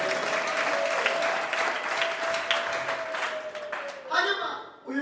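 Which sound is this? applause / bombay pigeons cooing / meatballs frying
applause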